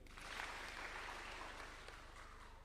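Applause from a political rally crowd in Kenya after an MP asks them to clap for a leader, a steady, faint wash of clapping lasting a few seconds with a low hum beneath.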